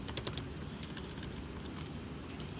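Code being typed on a computer keyboard gives quick, quiet key clicks in an irregular run, close to the microphone, with no talking.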